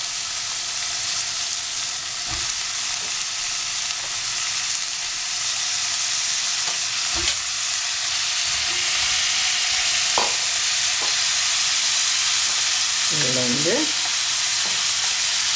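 Eggplant and onion fry in hot oil with a steady, close sizzle throughout, broken by occasional scrapes and clicks of a spatula stirring in the pan, and no one speaks over it.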